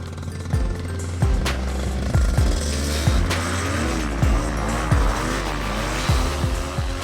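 A VR 50 paramotor engine running on the ground before a flight, a loud, close two-stroke drone that rises in repeated throttle blips and revs and falls back over several seconds.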